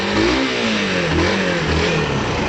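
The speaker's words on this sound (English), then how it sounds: "Give it a few revs for you" A 2010 Yamaha YBR 125 motorcycle engine revs up and down in quick bursts, close and loud, with a buzzing pitch that rises and falls.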